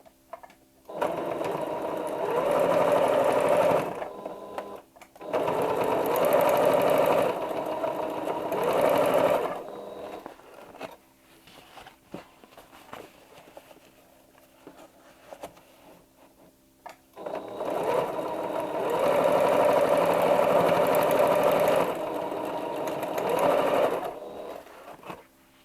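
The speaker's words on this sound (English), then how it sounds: "Now over here at the machine, I'm just going to flap this back and I'm just going to sew it" A sewing machine stitches a fabric gift bag in three bursts of rapid mechanical whirring, separated by short quiet pauses, with no talking.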